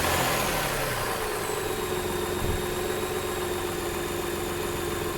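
A 2004 Toyota Highlander engine idles steadily after a jump start, a constant mid-pitched hum with a faint whine and a brief low thump partway through.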